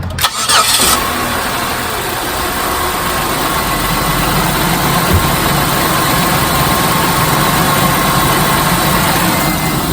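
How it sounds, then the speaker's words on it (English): A 2006 Buick Lucerne engine cranks and catches, then settles into a steady, loud idle with a constant low rumble for the rest of the stretch, just after a valve cover gasket repair. "now we're ready to start her up and see if she leaks"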